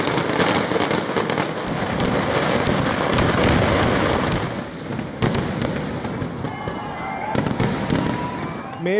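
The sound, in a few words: fireworks bursting for Thrissur Pooram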